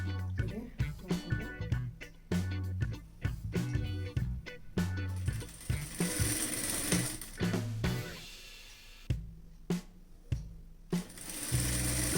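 A sewing machine stitches a fall onto a saree in quick rhythmic bursts of clattering needle strokes with short pauses between runs. The sound is close but quiet.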